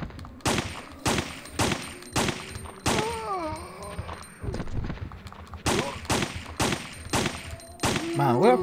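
Rapid gunfire from the video game Resident Evil 3: Nemesis: a string of sharp, loud shots in quick bursts, with a few wavering tonal game sounds between them and no talking.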